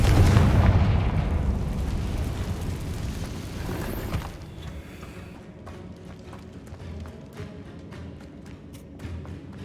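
A Confringo fire spell blasts in Hogwarts Legacy, a loud booming explosion that erupts at once and rumbles, then gives way after about four seconds to quieter crackling, scattered debris pops and game ambience.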